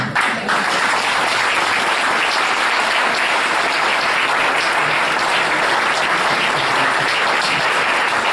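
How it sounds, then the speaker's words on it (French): Sustained applause from the audience after a history lecture at a Saint-Émilion society conference, dense and even, continuing at full strength throughout. "Alors je crois que vous méritez vraiment ces applaudissements."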